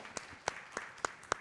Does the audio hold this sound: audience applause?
yes